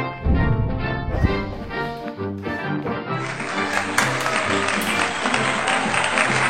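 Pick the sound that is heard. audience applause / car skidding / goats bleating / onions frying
audience applause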